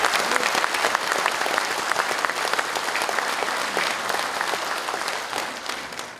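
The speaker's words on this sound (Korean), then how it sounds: "추모의 박수 한번 크게 보내주십시오." Sustained memorial applause from an audience at a Democratic Party appointment ceremony, steady dense clapping filling the room at a loud, even level throughout.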